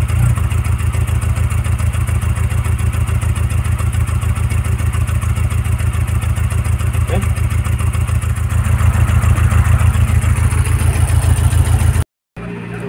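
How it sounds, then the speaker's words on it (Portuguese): A Volkswagen Kombi van's engine runs steadily at idle after a year standing unused, a loud, even mechanical clatter throughout with a brief dropout near the end. "o motor tá ligado aqui"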